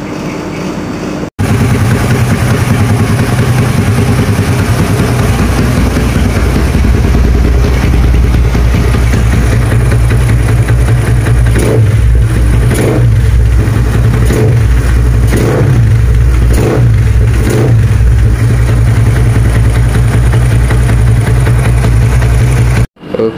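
A Yamaha LC135 5S motorcycle engine, upgraded from 65 to 73 bore, idles with a steady low rumble, then revs repeatedly in several short bursts before settling back, fairly close and loud.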